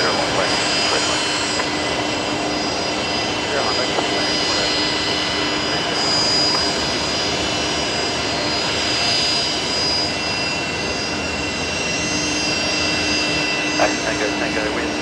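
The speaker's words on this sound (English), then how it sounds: "another Fokker pulling into Bay 50 Alpha" A Fokker airliner taxis toward its bay at Brisbane Airport, its steady engine roar filling the scene from a moderate distance as broadband rumble and whine, with air traffic control voices and people talking over it.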